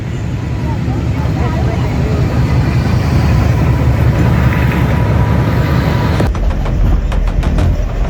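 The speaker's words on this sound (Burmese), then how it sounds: "ရထားဝင်လာတဲ့အတန်လေးကိုတစ်ချက်နားထောင်ကြည့်လိုက်" A train pulls into a station with a loud, steady rumble that fills the whole stretch, and a sharper clatter of cars joins near the end.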